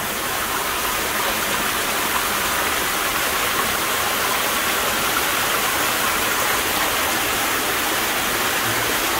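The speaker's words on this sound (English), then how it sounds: "There's a ton of water cascading down." A large volume of water cascades down inside an abandoned gold mine, making a dense, continuous roaring splash that stays loud and steady throughout, with no voices.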